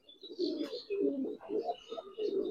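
A large, pure black Giribaz pigeon coos close by in a run of four or five rhythmic low throaty swells, fairly loud and clear, with no talk over it.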